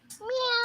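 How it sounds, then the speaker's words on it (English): A cat gives one short, close meow, rising and then holding steady, during an indoor live stream. "I have like so many cats meowing at me"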